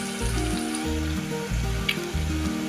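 Onions browning in hot oil for a tempering, the base of a Gujarati cowpea curry, give a steady close sizzle that runs throughout, with low rhythmic tones pulsing underneath.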